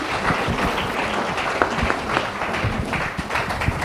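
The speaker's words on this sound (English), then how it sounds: "a round of applause for all the panelists here" Conference audience at India's NCF 2014 applauding the panelists, a dense sustained round of clapping from a room-sized crowd, steady and moderately loud for a few seconds.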